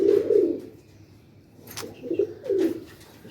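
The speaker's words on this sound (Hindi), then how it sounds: "कबूतर तगड़े हैं, बोलते हुए अच्छे भी लगते हैं" Sturdy pigeons coo in low, throaty bursts: one soft phrase at the start, then a pause and two more rolling coos close by, with no voices.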